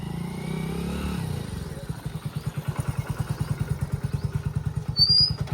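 A motorcycle engine idles and putters nearby in a steady rapid pulse, with people talking over the start, then a brief rev near the end.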